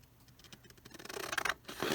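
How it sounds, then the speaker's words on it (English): Scissors snipping the edges off a sheet of paper, a series of close, crisp cuts that grow louder and more rapid toward the end. "I'm just going to cut off the edges."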